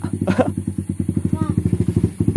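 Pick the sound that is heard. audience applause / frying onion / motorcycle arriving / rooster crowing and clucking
motorcycle arriving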